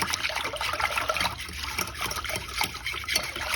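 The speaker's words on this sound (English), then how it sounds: "I'm going to pour it over my beef" Liquid poured steadily over a chuck roast for a few seconds, a soft continuous splashing close by with no talking.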